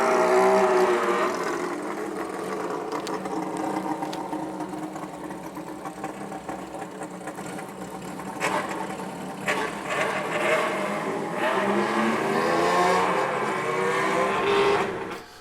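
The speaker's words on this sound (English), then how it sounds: "listening to them rev the engines" Bosozoku gang motorcycles rev continuously through a town street, a steady droning engine note rising and falling with sharper throttle blips near the middle and end, fairly close and loud with no talk.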